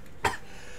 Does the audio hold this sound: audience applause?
no